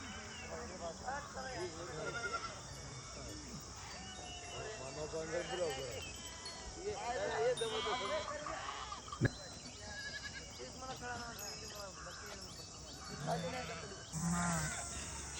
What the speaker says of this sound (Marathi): हे पूर्ण मेंढ्या आहे मामाच्या. आणि हे जे दिसून राहिल्या ही पूर्ण बकऱ्या आहे.